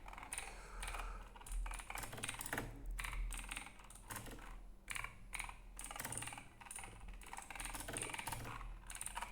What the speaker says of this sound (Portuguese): Digitar com uma mão é horrível.